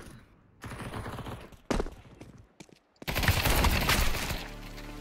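Loud bursts of video game gunfire break out in separate volleys, with sharp rattling shots and a dense, sustained barrage toward the end.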